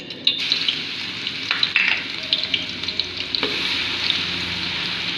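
Ginger garlic paste fries in a hot pan for a red kidney bean and lobia curry, giving a steady bright sizzle with a few light stirring scrapes and clinks, close and continuous, with no talking.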